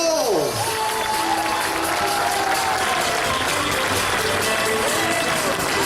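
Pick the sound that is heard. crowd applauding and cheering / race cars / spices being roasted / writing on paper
crowd applauding and cheering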